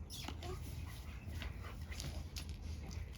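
A seven-month-old, nearly full-grown dog whimpers in short high yips and whines, fairly faint amid background noise in a horse stable setting.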